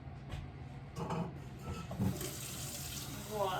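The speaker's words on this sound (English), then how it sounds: "And we got to put this half full" Water runs from a tap into a sauerkraut jar, a steady close splashing and filling sound with small shifts in pitch as the level rises.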